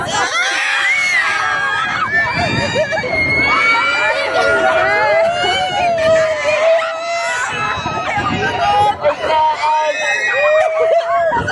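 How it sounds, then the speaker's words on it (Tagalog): Children shout and scream nonstop in a carnival crowd, loud and close, high excited voices overlapping with steady crowd babble and cheering. "Sigaw mo! Sigaw mo!"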